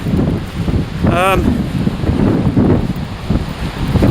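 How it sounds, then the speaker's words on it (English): Sea waves wash and pound against a rugged Welsh coastline beside a walking path, a continuous broad roar mixed with heavy wind buffeting on the microphone and a brief whistling tone partway through. "You've got the sea, kind of a wash of noise with the waves pounding on your right"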